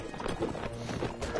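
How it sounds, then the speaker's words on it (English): Many horses' hooves clatter and drum together in the video game Mount & Blade: Warband, a dense, busy clip-clop of a mounted crowd with no voices. "There's so many horses."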